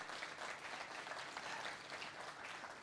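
Faint, dense applause from a distant audience, a steady wash of clapping with no voices on top.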